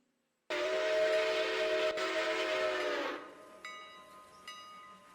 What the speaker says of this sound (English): the loco way back here is blowing the whistle for the crossing